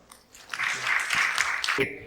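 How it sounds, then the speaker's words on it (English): Audience at a learning and development summit applauds to welcome a speaker, a steady burst of clapping that swells quickly, holds for over a second, then cuts off. "please welcome Mr. Harish with a huge round of applause"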